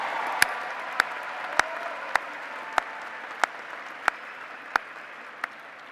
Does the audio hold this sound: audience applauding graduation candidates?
yes